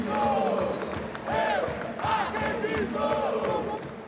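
A big live crowd at a Counter-Strike esports match, IEM Rio 2022, roars and shouts in a loud, sustained wave that swells and dips over a few seconds, with raised voices cutting through.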